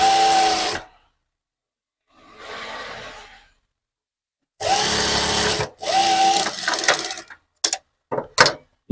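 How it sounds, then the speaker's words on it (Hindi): Sewing machine stitching a half-inch-margin seam on a dhoti salwar, several bursts of steady whirring interrupted by pauses, ending in quick short stitch runs, close and without talk. "अब हम इस साइड में यहाँ पे सिलाई को पूरा करेंगे।"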